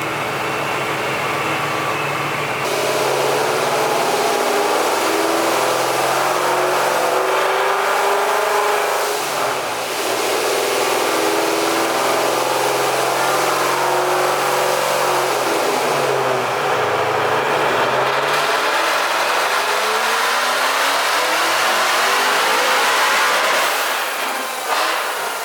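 A Ford Coyote V8 on an E85 tune revs hard and high, held near the top of its range almost continuously and loud up close, with brief dips between sustained screaming pulls.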